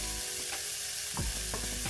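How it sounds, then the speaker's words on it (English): Broccoli fries in a pan on the stove with a steady close sizzle and crackle, punctuated by a few scraping stirring sounds and no talking. "So the broccoli has been just a sizzling on the stove"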